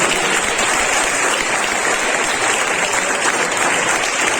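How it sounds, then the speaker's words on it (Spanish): Church congregation applauding during a Spanish-language sermon, a dense and loud wash of clapping that holds steady throughout with no speech over it. "Yo siendo tú le daría un aplauso."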